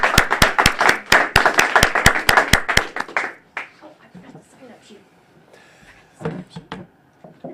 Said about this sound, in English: Let's have a round of applause for our Toastmaster today, Carol Kormelink.